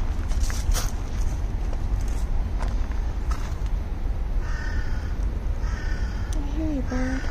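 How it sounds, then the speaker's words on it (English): A crow caws several times in a cemetery lined with pine-scented trees, the calls fairly close over steady outdoor background noise, with footsteps and a few higher bird notes near the end. "I hear you, bird."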